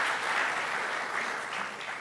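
A brief burst of steady audience applause at a governor's budget announcement, a dense wash of clapping that holds at an even level throughout.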